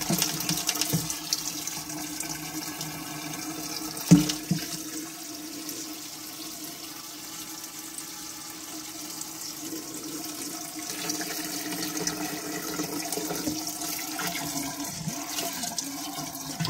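Tap water, set to warm, runs steadily into a reptile tank, a continuous splashing hiss with one sharp knock about four seconds in, fairly close and with no talking.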